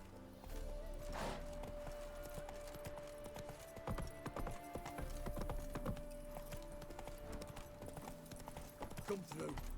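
Roach the horse galloping in The Witcher 3, a quick continuous clip-clop of hooves heard up close across the whole stretch, mixed with other game sounds and occasional clanks.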